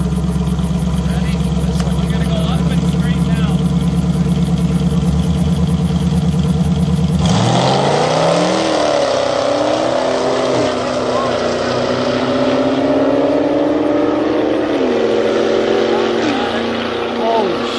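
A supercharged Chevrolet Corvette launches off the line with a loud, steady engine roar that shifts abruptly partway through into rising and falling revs as it pulls away, with voices faintly underneath.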